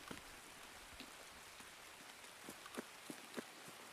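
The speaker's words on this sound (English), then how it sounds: "It's going to be very hard to hear people in this rain." Steady rain in the shooter game Escape from Tarkov, a faint broadband hiss with scattered soft drops and small thuds, alone with no talk.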